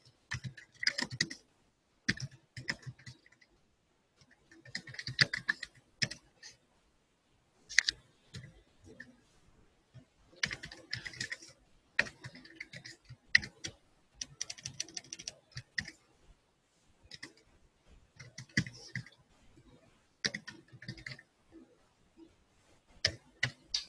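Typing on a computer keyboard during a class, close crisp key clicks in irregular bursts separated by short pauses, with no talking over them.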